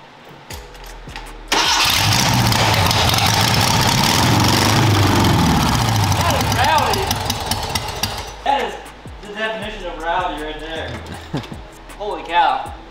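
A Porsche engine fitted in a go-kart cranks over and fires up loudly, settling into a rough, steady idle before stuttering and revving unevenly; people talk near the end.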